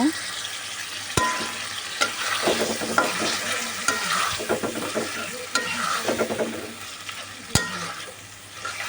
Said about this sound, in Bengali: এখন আমি এই ভুড়িগুলোকে ভালো করে মিশিয়ে নেব